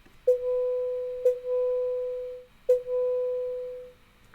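Three electronic tones, each a short bleep followed at once by a long sustained bleep, sound from networked HappyBrackets devices. They are clean and steady with pauses between the pairs, and no voices are present.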